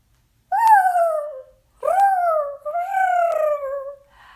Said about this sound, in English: I hear a peacock yelping in my ear